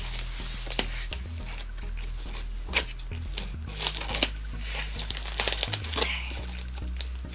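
Plastic packaging and tape crinkle and tear as a ball-jointed doll is unwrapped, with close, irregular crumpling rustles and sharp tearing bursts over a low steady hum.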